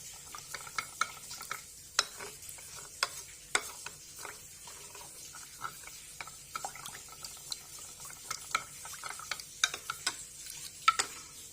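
A spoon clinks and scrapes repeatedly against a bowl while a vermicelli mixture with milk and water is stirred, the sharp taps coming irregularly over a quiet background without speech.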